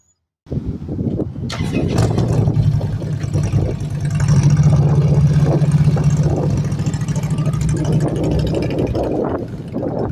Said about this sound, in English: There's Bud's bike going around the back of the shop.